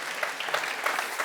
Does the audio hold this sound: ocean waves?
no